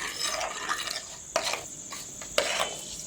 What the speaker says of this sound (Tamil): வெந்தயம் கொஞ்சம் பொரியட்டும்